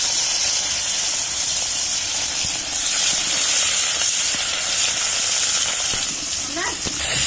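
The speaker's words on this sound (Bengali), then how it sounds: "তেলটা গরম হয়ে গেছে মাছ মাছগুলোকে দিয়ে দেবো" Fish sizzling in hot oil in a wok, a steady close-up hiss with a few faint clinks, continuing evenly throughout.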